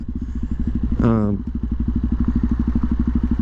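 A Suzuki DRZ400 motorcycle with an aftermarket exhaust cranks briefly and fires up, settling into a loud, close, rapid thumping idle.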